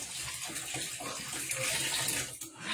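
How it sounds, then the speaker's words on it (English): Hands are washed under a running kitchen tap during a home cooking session, a steady rushing splash of water that stays loud and continuous throughout with no talking. "Wash my hands."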